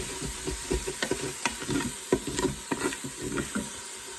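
Ground onion sautés in an Instant Pot among steak drippings, a soft sizzle under irregular scraping and stirring taps of a utensil against the pot, close and moderate.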